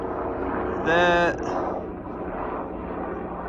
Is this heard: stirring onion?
no